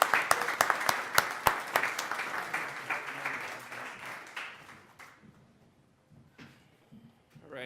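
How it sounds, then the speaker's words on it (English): An audience at a town board meeting claps for Girl Scout Silver Award winners: crisp, loud individual claps at first, dense and close, then thinning and fading to scattered claps and quiet room noise. "Let's get a big round of applause for all the Girl Scout Silver Award winners."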